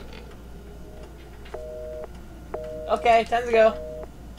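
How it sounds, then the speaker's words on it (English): A telephone tone in the video game Resident Evil 7 sounds in short steady beeps, two separated bursts at moderate volume, before a voice speaks over the end. "Wait, you got a dial tone."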